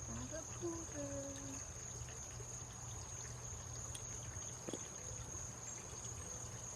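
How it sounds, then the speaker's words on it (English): A small pond fountain trickles steadily in the background, quiet and continuous, with faint outdoor ambience and a brief voice-like sound near the start. "You can probably hear my little water fountain in the pond."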